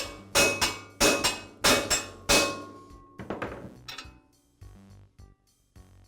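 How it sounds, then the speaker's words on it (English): A shop hammer strikes metal four times in a steady rhythm with loud ringing hits, followed by several lighter, quicker taps up close, tapping a bearing onto a tile saw shaft via a socket. "I'll just tap the bearing onto the shaft."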